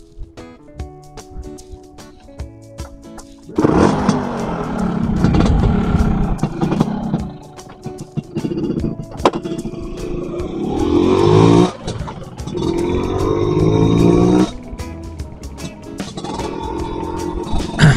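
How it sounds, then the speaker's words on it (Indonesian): A Vespa scooter engine with a newly fitted ML aftermarket exhaust starts after a quiet stretch and revs repeatedly, loud and close, with rising and falling throttle bursts. "sekarang langsung aja kita nyalakan motornya"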